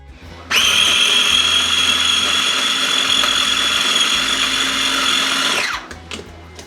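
Electric meat grinder grinding pork loin for homemade pressed ham: a loud, steady motor whine starts abruptly, holds for about five seconds, then winds down and cuts off, with no talking.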